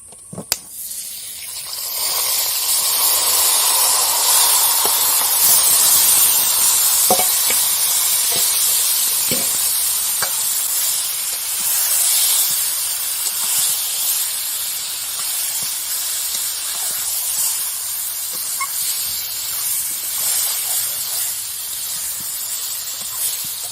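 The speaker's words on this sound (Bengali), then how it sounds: "এইভাবে আমি মাংসটা 15 মিনিট ধরে কষিয়ে নেব।" Marinated chicken frying in a pot for village-style chicken biryani, giving off a steady, loud, hissing sizzle that holds on without a break for over twenty seconds, with faint clinks now and then.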